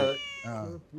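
A cat gives a short, drawn-out meow close by, rising then falling in pitch, with a second brief call at the end.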